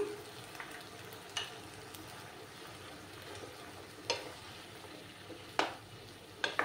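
Ginger garlic paste frying in a pan for a mutton masala curry, a soft low sizzle under a few sharp clinks and scrapes of a stirring spoon, close and fairly quiet, with no talk.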